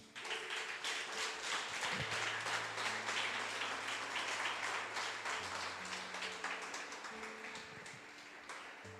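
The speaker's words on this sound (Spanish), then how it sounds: "Denle un aplauso al Señor" A church congregation claps together in sustained applause for the Lord, steady and fairly distant, with faint sustained instrument tones beneath that slowly taper off.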